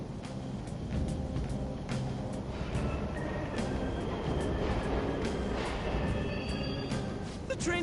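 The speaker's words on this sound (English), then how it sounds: "The trains are totally running!" Subway trains run through a tunnel in the Persona 5 Royal video game, giving a steady, fairly faint rumble and rattle of rail cars with intermittent clanks that carries on throughout without a break.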